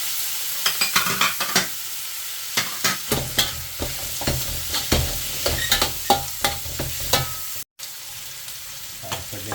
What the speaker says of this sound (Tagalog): Isulog natin ang kamatis.